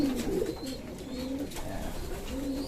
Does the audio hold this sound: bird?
yes